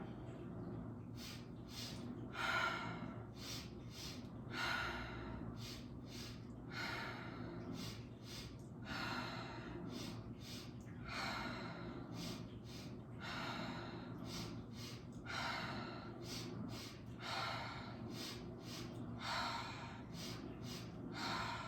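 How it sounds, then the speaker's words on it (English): Deep breathing exercise during a yoga practice, with continuous rhythmic inhales and exhales repeating roughly every second or two, close and fairly quiet, no talking. "Circulating the breath without pausing between each breath."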